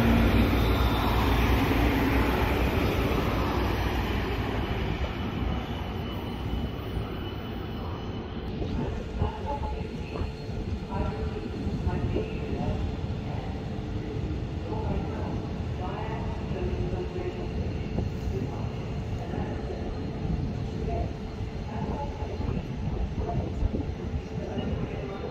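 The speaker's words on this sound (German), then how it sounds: "RE10 nach Kleve macht sich auf den Weg." An RE10 regional train bound for Kleve pulls away from a station platform, its steady rumble and wheel noise filling the scene loudly and continuously, with a brief hiss early on.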